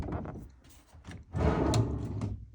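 A deep solid wood dovetail drawer slides open or shut with a short wooden rumble and a firm knock at the end, close and alone.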